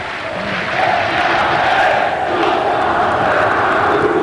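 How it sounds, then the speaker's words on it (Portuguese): Flamengo football supporters roaring in a packed stadium at the Copa do Brasil 2006 final against Vasco, a loud sustained crowd roar swelling after the first second and holding steady, distant and massed. "E a torcida do Flamengo feliz da vida."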